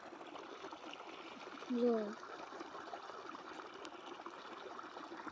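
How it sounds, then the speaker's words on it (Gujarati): Water running from a motor pump pipe into a small well setting, a steady trickling stream under quiet background, with a short spoken word partway through. "પાણી આવતું જાય પાણી આવે છે"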